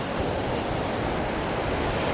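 Strong surf pounding the shore on Boracay during a typhoon, a steady loud roar of crashing waves mixed with wind buffeting the microphone, continuous and dense with no pauses.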